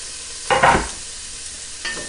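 Onion sizzling in a pot as it is stirred while a Moroccan lentil soup is started: a steady low frying hiss with two short bursts of louder scraping and sizzle, no talk.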